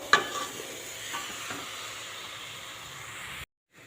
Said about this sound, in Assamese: এনেদৰে লৰাই ভাজি থাকিব লাগিব